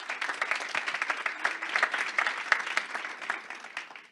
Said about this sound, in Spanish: Un aplauso antes de que inicien, por favor